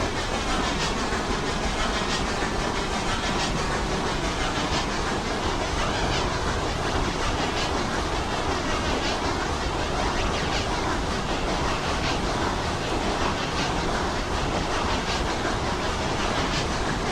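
A train rolls along rails in the video game Railroads Online, a steady, loud rumble with faint clickety-clack that continues unbroken and without any voices.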